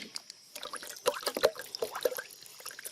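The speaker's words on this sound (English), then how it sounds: "you're splashing that out, Clay." Water splashing and trickling out of a hose line while releveling a portable building, with irregular close splashes and drips, fairly faint.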